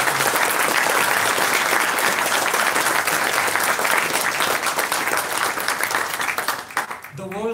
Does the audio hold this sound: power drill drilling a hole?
no